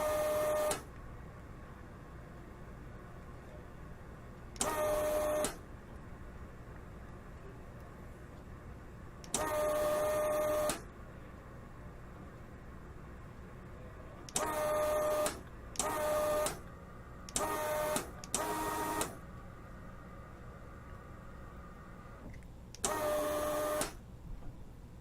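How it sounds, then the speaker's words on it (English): A Weller WXR 3003 soldering station's desoldering tool sucks out melted solder in eight short, loud, whirring vacuum bursts, spaced irregularly over a quiet steady hum. "hold it on for a few seconds just to melt the solder, and push the button. And that's sucking out nicely."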